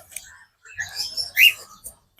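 Small birds chirp in an aviary at Kankaria zoo, with scattered thin high tweets and short calls coming in bursts, including one brighter chirp near the middle, over quiet background murmuring.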